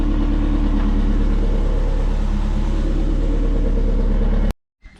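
Twin turbo Subaru engine idling at about 1,000 rpm, a steady close low rumble running without variation before cutting off abruptly near the end.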